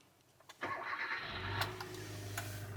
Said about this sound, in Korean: 시동을 걸어보겠습니다